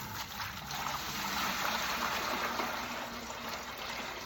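Hot water pours steadily into a container for homemade laundry soap, a continuous close, loud rushing gush with no breaks and no voices.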